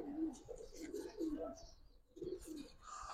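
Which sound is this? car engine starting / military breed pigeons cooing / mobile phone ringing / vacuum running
military breed pigeons cooing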